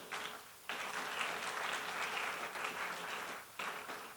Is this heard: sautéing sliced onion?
no